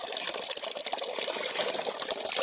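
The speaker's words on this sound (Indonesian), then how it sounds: "Nah, ini airnya." Water gushing steadily from the outlet of a hydraulic ram pump beside a river, a continuous close splashing pour with no pause and no voices.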